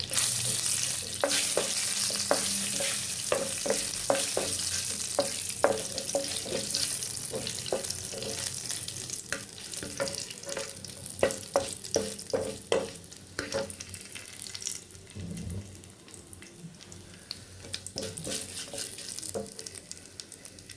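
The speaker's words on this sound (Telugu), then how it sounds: "ఇదిగండి పోపు వేగిపోయింది." Mustard seeds, cumin, urad dal and dried red chilies fry in hot oil as a tempering for tomato chutney. A continuous sizzle runs throughout, with rapid crackling pops early on that thin out and soften toward the end.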